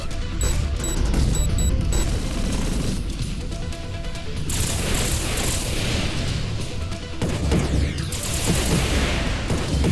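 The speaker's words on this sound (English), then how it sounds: "All weapons, fire at will!" Weapons fire in the sci-fi aerial combat game Nimbus Infinity: dense, continuous bursts of rapid gunfire and explosive crashes, loud and close, with sharp cracking volleys and rumbling booms overlapping throughout.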